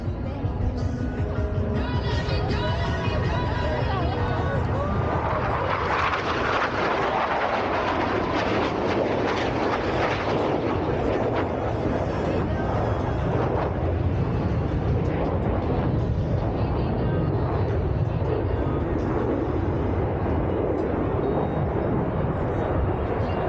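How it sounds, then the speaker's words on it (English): Blue Angels F-18 jets flying an opposing inverted roll at an air show open house in Anchorage, Alaska, a loud continuous jet roar that swells in the middle and stays heavy throughout, with an announcer talking faintly underneath. "solo pilots are approaching to demonstrate the inverted flight capability of the F-18."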